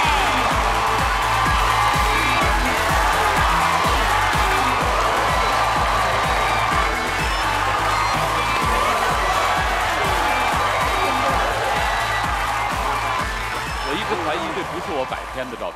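A TV talk-show studio audience applauds and cheers to welcome guests, a dense wash of clapping that stays steady for many seconds with a rhythmic beat underneath.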